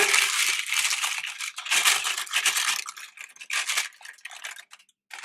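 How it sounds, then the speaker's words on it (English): Wax paper crinkling as it is pressed into a baking pan about 30 by 22 centimeters, with close, crisp rustling in bursts and brief pauses. "I like to put in some wax paper."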